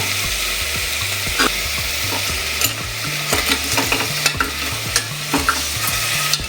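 Minced mutton for keema sambar fries in oil in a pan. A spoon stirs it in repeated close scraping strokes over a continuous loud sizzle.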